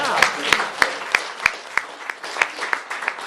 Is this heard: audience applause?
yes